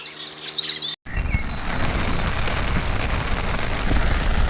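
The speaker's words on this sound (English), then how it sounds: "Well, now we're getting a little bit of rain." Rain falls steadily beside a canal while tench fishing, a loud, continuous broadband patter that starts abruptly after a second of birdsong and a short silent gap.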